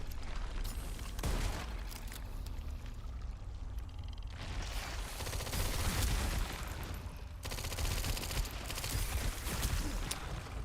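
A submachine gun fires in Resident Evil Requiem in fairly quiet, repeated bursts of rapid shots, with short pauses between volleys.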